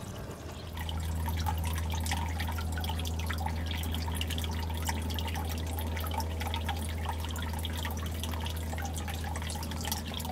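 A small pond pump pushing water into the filter of an outdoor turtle pond: a steady low motor hum under continuous dripping and trickling water, close and unbroken, with no talking.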